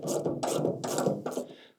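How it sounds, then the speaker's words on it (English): Nut being screwed by hand onto a suspension part of a 1974 Plymouth Duster during a suspension rebuild, four short close bursts of gritty metallic scraping and clicking, steady and without talk. "And then screw the nut on."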